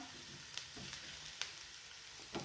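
Chopped onion frying in a pan for Maharashtrian egg bhurji, a steady close sizzle with a few soft spatula scrapes and taps, no voices.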